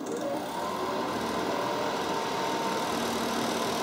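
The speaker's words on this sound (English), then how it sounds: "the compressor will automatically kick on and the fan will default to medium" Battery-powered 12 V portable air conditioner with its compressor and fan running on medium, a steady, even mechanical hum and drone with no talk over it.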